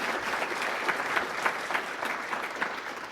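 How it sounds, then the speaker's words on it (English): A seated audience at a school event applauds for a superintendent, a steady wash of handclaps with a few sharper claps standing out, continuing evenly throughout. "How about another round of applause for our superintendent?"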